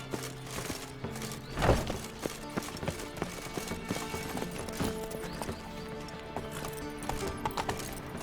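The horse Roach galloping in The Witcher 3 video game, rapid rhythmic hoofbeats clip-clopping steadily throughout, close and clear with a brief thump early on.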